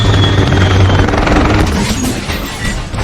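A military helicopter in a war film is hit by a bazooka blast, the loud rotor drone mixing with heavy booms and gunfire that fill the scene throughout with dense, continuous noise.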